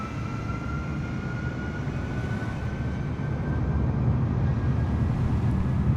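Simulated full-power takeoff of an Icon A5 light aircraft over New York City, a steady, loud broadband engine roar with a thin tonal whine, building slightly toward the end and continuing throughout with no talk.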